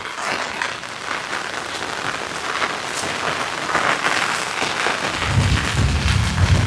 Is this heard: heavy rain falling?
yes